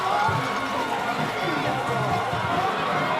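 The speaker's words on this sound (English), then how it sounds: "This crowd is really into the game now after that catch." A high school football crowd at a stadium game cheers after a catch, a steady wash of voices and roaring that holds for several seconds under a commentator's talk.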